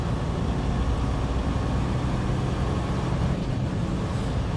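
A car drives toward downtown Chicago, its steady engine and road rumble continuous and close, with no talking.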